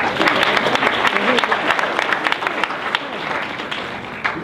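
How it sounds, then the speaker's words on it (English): Audience applause at a student government forum, a steady dense patter of many hands clapping, loud and sustained throughout without pause. "Give yourselves a round of applause again."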